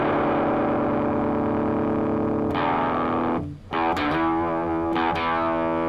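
An electric guitar played through a Kinotone Sparks overdrive pedal with the gain turned down gives sustained, saturated chords with a chorus-like shimmer, a brief dip as the strings are muted, then sharp new strums ringing out loud and close.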